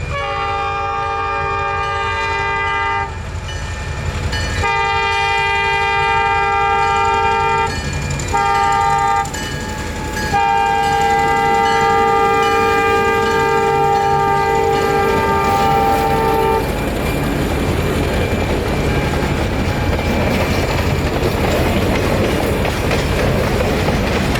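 A loud, multi-tone horn on an Alco S2M locomotive blasts in several bursts of varying length, then gives way to the rumble and clatter of a passing train.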